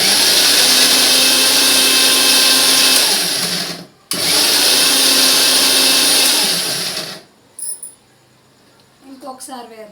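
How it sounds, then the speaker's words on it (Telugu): A kitchen mixer grinder blitzes onion and tomato into paste in two loud, steady whirring runs split by a brief pause, then stops; a voice speaks softly afterward. "ఉల్లిపాయ, టమాటా కూడా మిక్సీ వేసేసుకుందాము."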